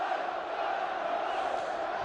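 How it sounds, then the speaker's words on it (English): Football crowd at a Burnley vs Wigan Athletic match, a steady loud roar of many voices chanting and cheering from the stands, continuous with no distinct breaks. "It's lifting the crowd."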